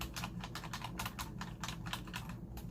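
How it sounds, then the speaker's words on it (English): Clicky buttons on a small tech gadget pressed in a quick, uneven run of crisp clicks, close and fairly quiet, with no talking. "you have clicky buttons on this"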